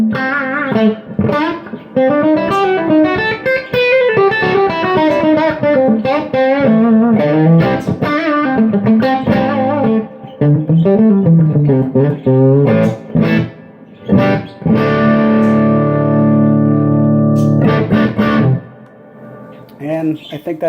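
An electric guitar with a humbucker plays through an overdriven Orange Crush Pro 120 solid-state head, gritty sustained notes and chords breaking up, ending with a long ringing chord.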